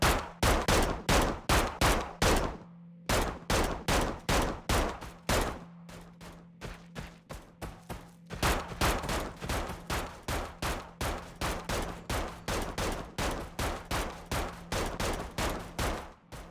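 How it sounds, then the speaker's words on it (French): Rapid bursts of gunfire during armored vehicle cover training, sharp repeated shots in dense volleys with brief pauses, loud and close, a steady low hum running beneath part of the firing. "Il y en a qui tirent en dessous."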